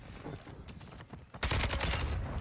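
Gunfire in Call of Duty Modern Warfare 2: scattered shots early, then a loud, dense burst of rapid automatic fire in the second half.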